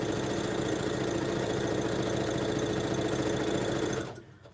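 A sewing machine chain-pieces fabric for a churn dash quilt block, running at a steady, fast, loud hum for about four seconds before stopping suddenly. No talking is heard.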